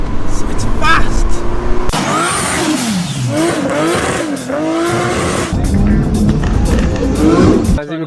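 A remapped, non-stock Audi A3 2.0 TDI diesel hatchback accelerates hard in first gear, its engine revving loud and close with rising and falling pitch, some tyre noise, and people talking over it.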